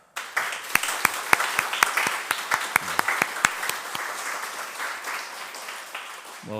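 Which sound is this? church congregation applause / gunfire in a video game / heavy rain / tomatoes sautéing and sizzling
church congregation applause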